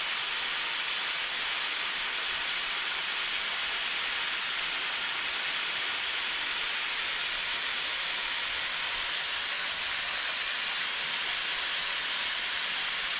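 Blown air dries a fresh coat of paint during fine-line masking work, a steady, close, continuous hiss that holds at even loudness throughout with no pauses and no talking.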